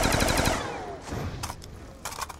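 Rapid automatic gunfire from Call of Duty Black Ops II Zombies on the Buried map: a loud, dense burst of rounds that fades out, then a few shorter bursts of shots follow.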